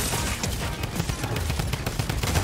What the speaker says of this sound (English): Stinger SMG